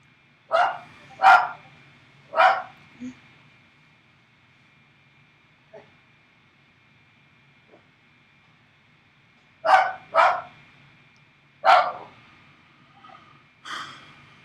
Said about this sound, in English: Yeah, the dog is not taking the self-isolating very well.